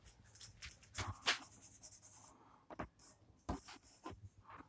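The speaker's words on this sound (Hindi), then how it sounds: "इसको अपन दूसरे कलर से लिख लेते हैं" A marker or pen writes on a board or page during a maths lesson on matrices, quiet scratchy strokes in short bursts with pauses between them, close up and without talk.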